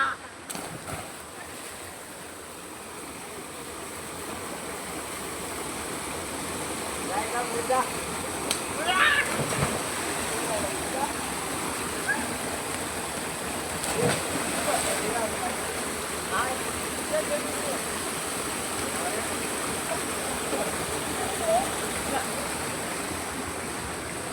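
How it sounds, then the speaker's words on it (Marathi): A clear village river in Konkan, where people have gathered to bathe, rushes and splashes steadily, with a broad wash of flowing water and occasional brief splashes and voices in the background. "हा बघा पाणी पाहतोय ही नदी आहे"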